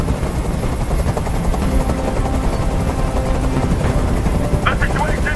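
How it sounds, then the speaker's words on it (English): A hovering helicopter in the game Detroit Become Human fills the scene with a loud, steady rotor thrum and engine roar that runs unbroken throughout. "Tell that helicopter to get out of here!"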